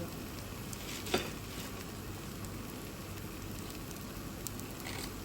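Napa cabbage and garlic fry in a pan with a soft, steady sizzle and crackle, plus one brief clatter near the start. The sound is faint and continuous, with no talking.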